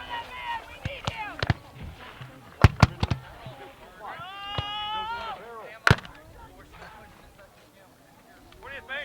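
Rifle volleys crack out at a Civil War reenactment battle, scattered sharp reports at irregular intervals amid shouted commands and voices, some shots loud and near, others further off.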